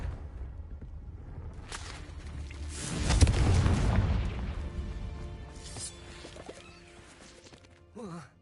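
A Confringo explosion spell in Hogwarts Legacy goes off as a heavy booming blast that swells, rumbles and slowly fades, followed by smaller crackles and a brief late burst.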